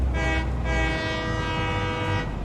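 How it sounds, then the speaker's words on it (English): A train horn in the factory-building video game Satisfactory sounds a loud, sustained harmonic blast with a brief dip, over a steady low rumble of the moving train. "I didn't want you guys to worry that I was taking the train and not tooting the horn."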